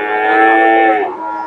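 A single Friesian heifer lets out one long, loud moo close by at the Dakumara cattle market in Gabtali, Bogura, Bangladesh, the call dropping in pitch as it fades near the end.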